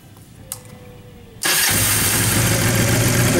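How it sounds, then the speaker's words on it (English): A 2009 Honda Rebel 250 motorcycle in excellent condition, with low miles, fires up after a brief starter sound and settles into a steady, loud, close idle. "We'll go ahead and fire it up. Let you hear how it sounds."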